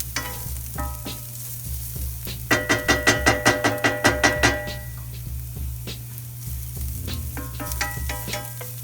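Onions and garlic fry on high heat, a continuous close sizzle under a steady low hum, with clattery stirring and a burst of quick rhythmic metallic tapping in the middle; no one speaks.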